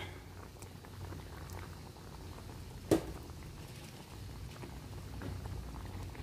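Vinegar is poured into a pot of grilled tilapia, giving a quiet, continuous simmering bubble with a single sharp clink near the middle and no talking.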